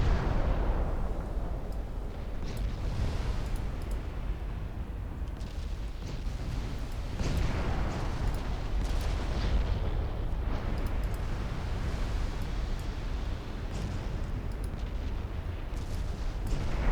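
Naval guns in a 1964-era warship strategy game fire at enemy cruisers, producing dense, overlapping heavy booms and rumbling blasts that roll on continuously without pause.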